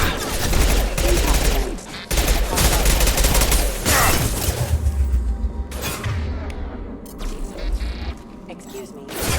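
Heavy bursts of gunfire against mechs in Mass Effect 2 crackle in loud, dense volleys with short pauses between them, while voices talk over the shooting.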